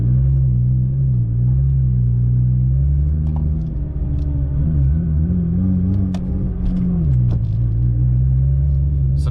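Nissan GT-R engine rumbling at low speed as the car rolls slowly out of a garage and driveway, a steady close, loud drone with slight shifts in pitch and no talking.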